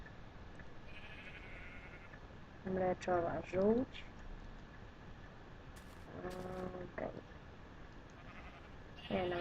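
Sheep in the Minecraft video game bleating in short, wavering bursts, one pair early and more later, over quiet background while someone talks.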